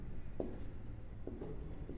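Marker or chalk writing on a board during a Hindi-language maths lesson on quadratic equations, a few short faint strokes over a steady hum.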